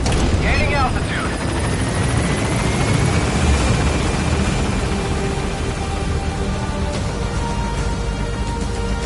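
An extraction helicopter takes off in the video game Metal Gear Solid V, its rotor thrum and engine whine loud and close, with a rising turbine tone and rain-like noise layered over the steady beat.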